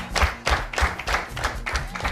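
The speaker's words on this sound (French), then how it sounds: "On applaudit très fort pour l'encourager" A studio audience at a televised children's competition claps to encourage a young contestant, the claps landing in a fast, fairly regular beat with dull low thumps underneath, loud and close throughout.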